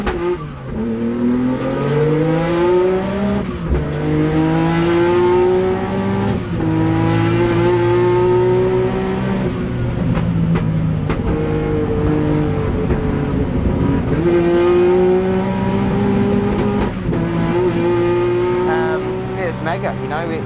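A loud Ric Wood Motorsport race car engine revving and roaring through repeated gear changes at Goodwood Speedweek, rising and dropping in pitch, with a voice talking over it.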